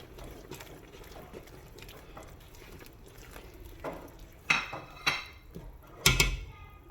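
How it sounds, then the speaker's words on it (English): Nigerian okra soup being stirred in a pot with salt, cilantro, pepper and thyme, soft steady scraping and sloshing with a few louder knocks of the spoon against the pot near the end; no talking. "Give it a good mix."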